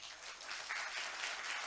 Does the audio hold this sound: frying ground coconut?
no